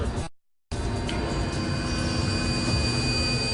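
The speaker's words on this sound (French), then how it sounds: "ces bruits seraient peut-être causés par des avions" An aircraft drones steadily overhead, a broad continuous roar with a thin high whine, interrupted by a brief cut to silence near the start before resuming at even loudness.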